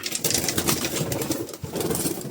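Racing pigeons out in a street among stray birds, with a dense steady rustle of wingbeats and faint cooing filling the air close by, no voices.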